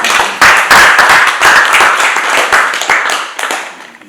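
A church congregation claps to welcome the Vice Mayor, a close burst of brisk hand claps that swells at the start and tapers off toward the end.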